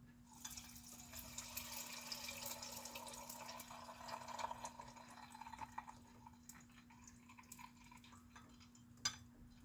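Faint bubbling and fizzing as a hot gun part sits in boiling oil during hot dip bluing, a soft continuous crackle with a steady low hum beneath and one sharper pop near the end.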